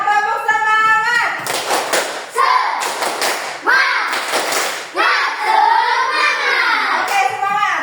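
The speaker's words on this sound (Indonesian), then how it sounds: "Tepuk semangat." A classroom of children doing a rhythmic spirit clap, bursts of sharp hand claps in a patterned beat alternating with chanted voices, loud and close throughout.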